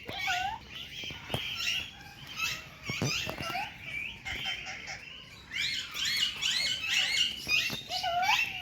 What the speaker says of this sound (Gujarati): ત્યાં બધા ઉપર પોપટ રહ્યા લીલા.